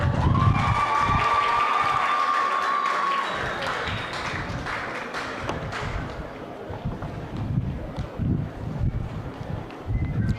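Applause from a crowd at a 2022 college commencement in Corozal carries on steadily, then thins into scattered clapping with some background murmur.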